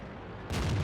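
A German tier 10 medium tank firing its gun in World of Tanks, a single sudden deep boom that cuts in abruptly halfway through and rolls on loudly.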